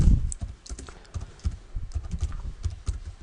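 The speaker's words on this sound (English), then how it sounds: "And I'll just type the desired text." Quick, close key clicks as text is typed on a computer keyboard, a steady patter of individual keystrokes with no voices.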